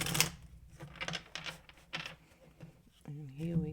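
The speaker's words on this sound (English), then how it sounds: "shuffle a little bit more" Tarot cards are shuffled in quick, uneven bursts of soft papery riffling and tapping, close by, before a voice starts talking near the end.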